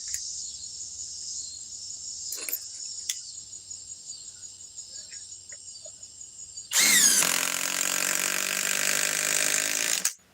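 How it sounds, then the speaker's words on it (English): A 24-volt Cobalt subcompact cordless impact wrench: a thin high-pitched whine first, then a loud, harsh motor burst of about three seconds up close that cuts off abruptly, with no talking. "Now we're talking the Cobalt subcompact impact wrench."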